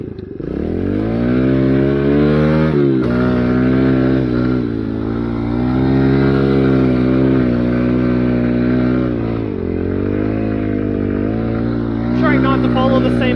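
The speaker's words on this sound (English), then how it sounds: "going to run a few laps with the snow bike" Kawasaki KLX110 minibike fitted with a Timbersled snow bike kit, its small single-cylinder engine droning loud and close through laps on snow, revs rising and falling with a sharp dip near three seconds and a burst of clatter at the end.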